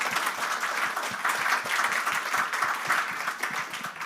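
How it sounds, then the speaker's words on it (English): A hall audience gives sustained applause at a football tournament partnership announcement, dense steady clapping at even loudness for a few seconds, with no talk over it. "I think that deserves a round of applause"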